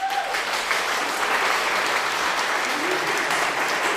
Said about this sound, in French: Ils vont pouvoir applaudir à l'Assemblée.